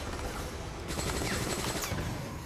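Rapid gunfire from a weapon in the zombie shooter game Resident Evil: Operation Raccoon City, a dense burst of shots starting about a second in and continuing steadily over background game noise, with no talking.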